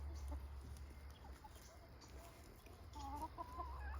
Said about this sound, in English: That's another rooster.